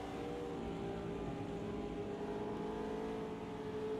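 A Porsche race car engine in the sim racing game Automobilista 2 hums steadily at a constant pitch, faint and continuous throughout with no voices.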